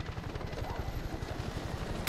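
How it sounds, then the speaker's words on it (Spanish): Helicopter flying in the World War Z video game, a rapid rhythmic rotor chop thumping steadily and fairly close throughout the short clip. "Un helicóptero."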